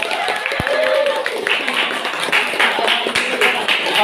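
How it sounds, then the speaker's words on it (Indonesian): Classroom students clapping for prize winners, a moderately loud burst of mixed hand claps with a teacher's voice and other talk running over it throughout. "Tepuk tangan dulu."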